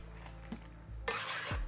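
Shrimp being mixed into creamy Cajun pasta in a pan, with soft wet stirring, a light utensil scrape and a low sizzle, close and quiet with no talk.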